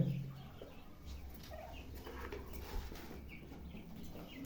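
Pet birds kept in a cage make soft, scattered clucking and chirping calls over a quiet background, faint and fairly close, with no talking.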